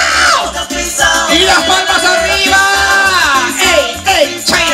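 A lively crowd at a 50th birthday party claps rhythmically and shouts and cheers loudly up close, with music and excited voices on top.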